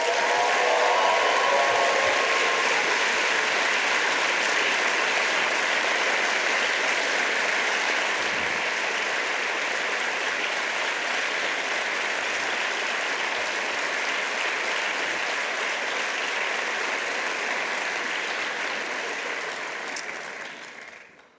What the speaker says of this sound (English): your parents and loved ones deserve the first round of applause